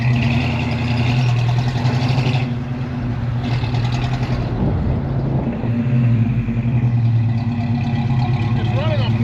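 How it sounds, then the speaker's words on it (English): A Monte Carlo engine runs rough on four cylinders with half its carburetor blocked, a loud uneven idle droning throughout with a brief dip, while people talk over it. "It's running on 4 cylinders."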